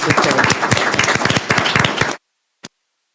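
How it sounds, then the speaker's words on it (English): An audience at a school board candidate forum gives a round of applause, dense and steady for about two seconds before stopping abruptly, with one short clap or tap afterward. "I'd like to have a round of applause for Phil"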